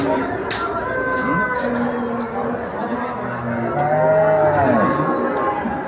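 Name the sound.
cow mooing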